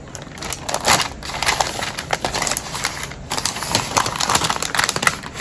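Paper is cut and torn by hand for a shabby vintage journal cover, a close run of irregular crisp snips, rustles and ripping crackles with no talk.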